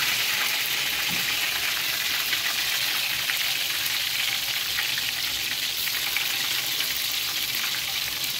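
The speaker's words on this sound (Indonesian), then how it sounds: "Kita goreng sedikit-sedikit aja." Shrimp crackers (krupuk udang) fry in a pan of hot oil with a dense, continuous sizzle and bubbling crackle, steady and close, with no talking.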